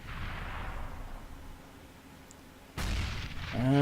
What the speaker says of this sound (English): that grenade was only a couple whiskers away from absolutely slaughtering Zend